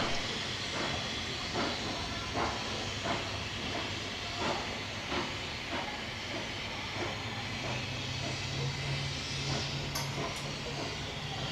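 Locomotives 3265 and 3642, uncoupled from their train, roll along a New South Wales rail line toward Thirlmere with steady steam hiss and a regular clickety-clack of wheels over rail joints, fairly close and without voices.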